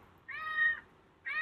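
A cat meows outdoors in a Japanese neighborhood, two clear drawn-out calls from a short distance, the second starting just as the clip ends.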